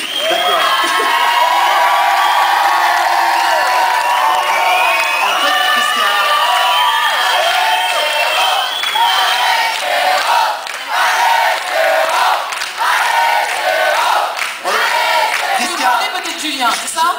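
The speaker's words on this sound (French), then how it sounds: "toutes ces acclamations sont pour ce jeune homme ici" A large crowd cheers, whoops and shouts loudly and continuously for a finalist at a Disneyland Paris ambassador presentation, the roar staying dense and near throughout with scattered higher shouts.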